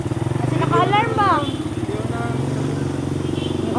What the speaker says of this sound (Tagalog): test drive daw muna namin ang motor